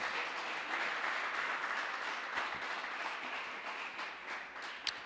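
A church congregation applauds in a steady, broad wash of clapping that holds for several seconds. It sounds like a large crowd heard from within the room, with no speech above it.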